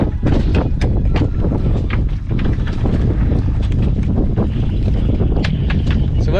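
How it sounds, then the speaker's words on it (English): Steady wind gusting over open water near an oyster farm, a broad continuous roar with buffeting on the microphone, mixed with faint boat and water sounds throughout. "It got windy early today."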